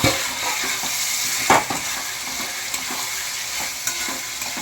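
Chicken meat frying in a pan while being stirred: a constant close sizzle broken by scraping stirs and a few sharp utensil knocks against the pan.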